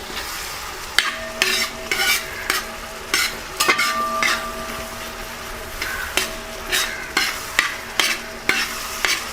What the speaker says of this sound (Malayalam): ഇത് ചെറിയൊരു ബ്രൗൺ കളറായി വരുന്നവരെ നമ്മൾ വഴറ്റണം.